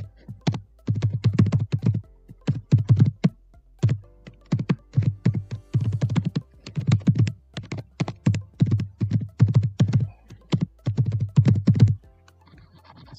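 Rapid, uneven keystrokes clatter on a computer keyboard while code is typed, arriving in dense bursts with short pauses between, close and alone with no talking.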